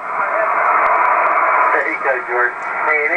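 Amateur radio reception on the 40 meter band through a Comet antenna: a steady wash of hiss and static with a faint voice coming and going underneath it.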